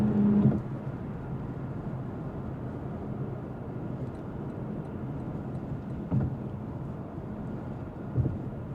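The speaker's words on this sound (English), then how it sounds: "I had a louder road surface to start and there was definitely more tire noise" Inside the cabin of a 2026 Lexus LC500 convertible with the top up, tire roar on Michelin Pilot tires over a loud road surface blends with wind noise as a steady, low rumbling drone, with a few faint bumps and no voices.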